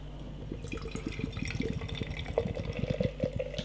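Cherry and passion fruit Gose beer is poured from a can into a glass, a close, continuous bubbling, glugging flow of liquid that lasts several seconds without speech.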